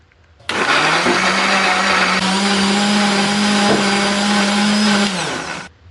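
Blender running steadily for about five seconds, grinding a spice paste of lemongrass, garlic, shallot, turmeric and candlenut with a little water; a loud, even motor whine with churning, starting and stopping abruptly.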